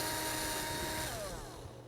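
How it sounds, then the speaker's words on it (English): A loud, steady electric drill whine runs continuously as a 5mm bit bores into a dried gourd, the tone dropping slightly near the end as it slows. "Push the bit in where you want it and then turn the drill on"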